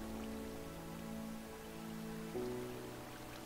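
A waterfall in a modded Minecraft-style video game world, beside a cave, gives a steady, soft rushing hiss like rain. It runs the whole time beneath sustained tonal game music and ends with a brief sharp click.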